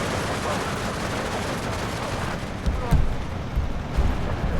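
Dense battlefield gunfire from Steel Division 2, a Partisan Uprising multiplayer match, rumbling continuously with a few heavier bursts near the end, while a voice talks over it.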